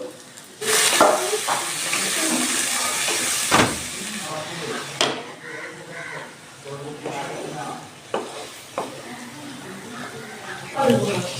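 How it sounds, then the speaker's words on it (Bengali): Onion frying in oil in a pan with ground turmeric, coriander, cumin and chilli powder added, giving a steady sizzle with stirring scrapes and a few sharp clinks, while a person talks throughout. "আমার পেঁয়াজটা ভাজা হয়ে গেছে দিচ্ছি একটু ধনে গুঁড়ো একটু জিরে গুঁড়ো দিচ্ছি একটু লঙ্কা গুঁড়ো"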